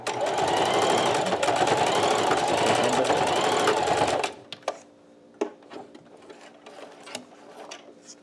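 A sewing machine stitches a fabric face mask in a loud, steady mechanical whir that runs for about four seconds and then stops, leaving scattered small clicks and handling taps close by.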